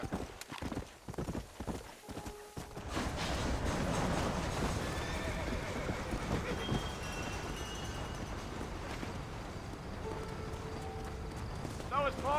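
A horse gallops with fast clip-clop hoofbeats and whinnies in a Western setting in the video game Red Dead Redemption. People speak over the galloping, and there are a few short neighs near the end.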